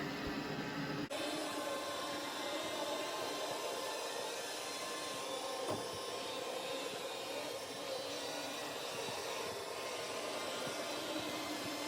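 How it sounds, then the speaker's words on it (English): An iRobot Roomba i6+ robot vacuum running: a steady mid-level whirring hum with a constant motor whine, broadband and unbroken, faint in the room with no voices. "I'm going to do this on every single robot vacuum I own, and we'll see just how loud they all are."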